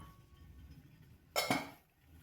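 An idli steamer pot's metal lid is lifted after ten minutes of steaming over a medium flame, producing one sharp, close metallic clank that follows a quiet pause and then fades quickly.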